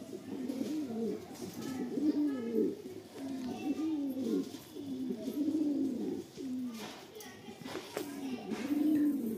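Rampuri pigeons coo steadily, repeated low rolling phrases close by, one after another over a light background hum.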